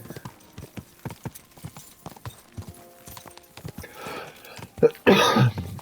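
Horse hooves clip-clop at a steady walking rhythm in the video game Kingdom Come: Deliverance II, fairly close and moderate in level, followed by a louder burst of rustling near the end.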